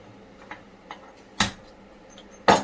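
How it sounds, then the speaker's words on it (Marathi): Gas stove burner lit at home before frying potato bhajji, two sharp clicking ignition bursts spaced about a second apart, with a couple of fainter ticks before them in a quiet kitchen. "आपण गॅस पेटवून घेऊया."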